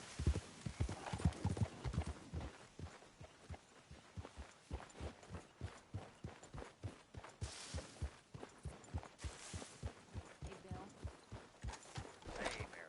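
Steady video-game horse hooves clip-clop at an even walking rhythm, close and clear, with faint voices and other noises now and then underneath.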